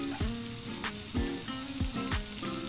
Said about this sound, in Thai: เราก็ใส่หมูที่เตรียมไว้ลงไปคลุกเคล้าให้ทั่ว